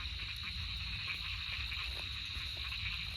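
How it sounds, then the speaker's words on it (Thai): Frog or small toad calling at night outdoors, a steady dense chorus of croaks and insect-like trills holding evenly throughout, with no talk. "เสียงกบหรือเสียงเขียดวะ"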